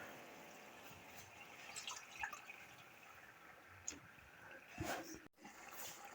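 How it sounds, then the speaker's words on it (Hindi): Water is poured into a masala gravy for egg curry, giving soft splashing and dripping in a few brief bursts over a steady kitchen background. "अब हम इस टाइम पे आके इसमें 1 या 2 कप जो है वो पानी के डालेंगे ग्रेवी बनाने के लिए"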